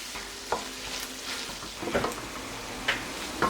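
Squid and salmorreta, the Alicante tomato and pepper sauce, fry in a pan for a seafood rice, a soft steady sizzle broken by sharp intermittent scrapes and clicks of stirring.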